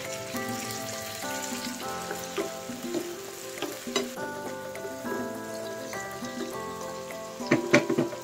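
Tomatoes sizzle and crackle steadily in a hot frying pan while being stirred, a continuous close frying hiss with scattered pops, with background musical tones running underneath.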